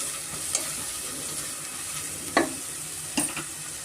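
Onions frying in a pan for green egg biryani: a steady sizzle runs throughout, with a few sharp scrapes and clinks as a spoon stirs them, close and with no talking.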